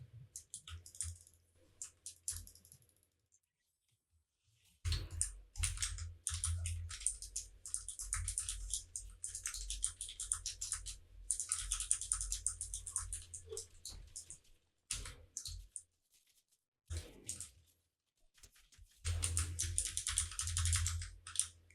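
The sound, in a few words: computer keyboard typing while playing Fortnite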